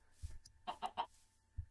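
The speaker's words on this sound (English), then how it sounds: "Ooh, chickens. I might actually need these." Minecraft chickens give a quick run of three soft clucks, with a few low muffled thumps before and after, faint and with no talk.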